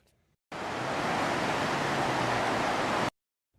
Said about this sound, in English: take a listen to what exactly and look at what this water is doing to these dry desert sands